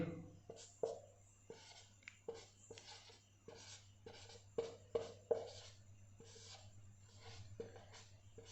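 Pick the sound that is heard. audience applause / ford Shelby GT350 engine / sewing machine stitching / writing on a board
writing on a board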